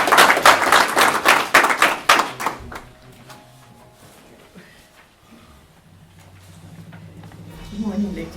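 Applause at a mentorship program graduation ceremony: loud, rapid clapping from the audience for about two and a half seconds, then a quick fade into quiet room noise and a low hum.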